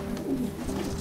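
Soft, low cooing of a young blue racing pigeon, a short throaty burble close by over a faint steady background hum.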